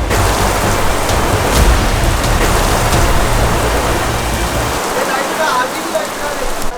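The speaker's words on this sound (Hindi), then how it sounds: "अरे भाई तूफान आ गया यहाँ पे यार" Heavy rain and storm wind outdoors in India, a loud continuous roaring downpour with gusty rumble throughout, no breaks.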